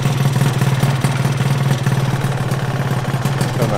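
A 72cc Honda Elite scooter engine idling just after a cold start, a loud, steady low putter with a fast even pulse and slight clatter, close up and without speech.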